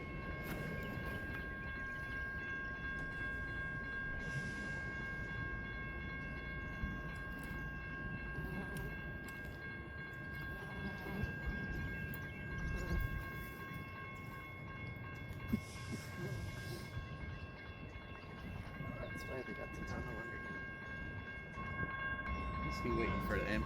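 Freight train reversing slowly back into a rail yard, a steady low rumble of cars with faint clanking and drawn-out tonal squeals from the wheels, distant and continuous throughout.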